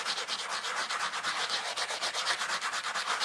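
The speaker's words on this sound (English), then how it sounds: "So, this is a really rough sanding block I have here." A rough sanding block rasping rhythmically back and forth across a cast eco-powder piece, close and steady with quick even strokes and no voices.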